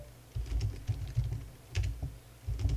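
A computer keyboard is typed on in short, quiet bursts of keystrokes separated by brief pauses, close and clear with no voices.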